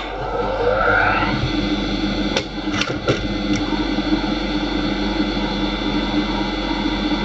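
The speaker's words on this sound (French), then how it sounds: "J'allume la machine." An industrial sewing machine's motor switches on and settles into a loud, steady hum and whine, with a couple of brief clicks near the start.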